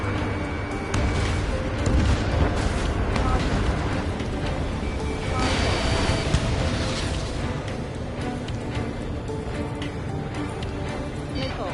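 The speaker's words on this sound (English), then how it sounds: "Strider 1, missile away." In the jet-combat game Ace Combat 7, a missile fires and explodes over a constant roar of engine and wind, with a heavy rushing burst in the middle while voices talk over it.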